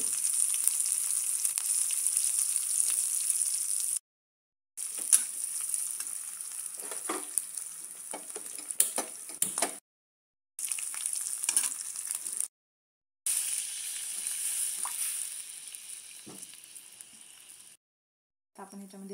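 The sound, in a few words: green chillies sizzling in hot oil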